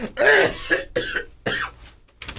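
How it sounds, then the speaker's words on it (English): A few harsh coughs in quick succession, close and fairly loud, with short pauses between them. "Sorry, I coughed."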